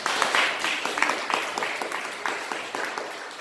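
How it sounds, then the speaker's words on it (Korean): A church congregation gives a burst of welcoming applause during a Sunday worship service, many hands clapping together in a dense, steady patter that fades slightly toward the end. "환영의 박수 보내주시기 바랍니다."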